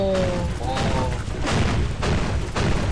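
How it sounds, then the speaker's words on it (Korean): Heavy gunfire in a robot video game, with a rapid, sustained barrage of shots and repeated thumping blasts at regular intervals. The firing is loud and continuous, and a voice is briefly heard at the start. "와 겁나 쏜다 진짜."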